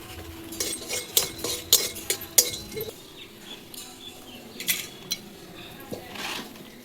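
Dry garam masala stirred in a hot empty pan while cooking chicken curry, with a run of light metallic scrapes and clinks from the utensil in the first three seconds, then sparser taps over low kitchen background.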